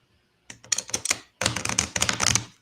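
Two piles of playing cards are riffle-shuffled together, two quick bursts of close, crisp fluttering clicks split by a short pause.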